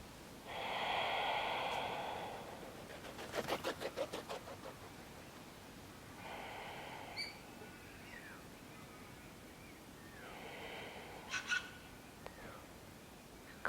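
Slow breaths during a beginner yoga spinal twist done without wrist support, a long close exhale followed by two more soft airy breaths spaced several seconds apart, with brief snorting puffs between them in a quiet room.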